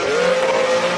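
A Martini Porsche 911 race car climbs a hill at a Cape Town classic speed event, its engine note a loud, sustained rising drone passing close by in a single brief burst.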